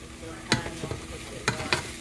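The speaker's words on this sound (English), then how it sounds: "So we're gonna let this just do its thing for a couple of minutes. Let it kind of saute." Chicken sautés in a pot for curry, a faint sizzle broken by a few sharp clinks and scrapes of stirring.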